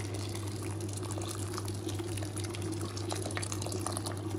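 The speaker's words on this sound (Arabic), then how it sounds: "دلوقتي هنزل بقى بالميه او الشوربه بتاعتنا. هنزل كده بميه سخنه" Hot water is poured into rice in a pot while making a rice and vermicelli dish, a steady close liquid pouring and bubbling sound lasting the whole stretch with no talk.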